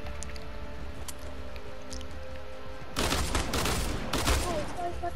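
Rapid automatic gunfire in the video game Fortnite, bursting in loud, dense volleys over the last couple of seconds after a quieter stretch.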